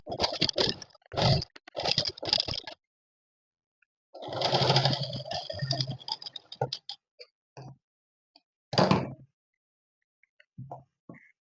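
Short bursts of a sewing machine stitching a kaftan dress along the back neck band, quick rattling runs separated by silences and a few faint clicks, close up and alone.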